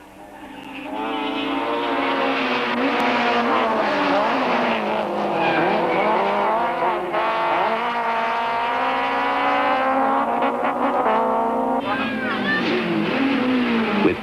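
Rally cars racing at Swartkops Raceway, engines screaming at high revs with rising and falling pitch as they shift and pass, loud and sustained, under a voice talking over the action.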